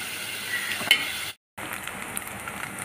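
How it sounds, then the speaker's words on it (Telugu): Spicy Andhra-style dry prawns frying in a pan until reddish, a steady close crackling sizzle broken by a brief silent gap midway, with no talk. "ఈ రొయ్యలు బాగా వేగినాయి ఫ్రెండ్స్"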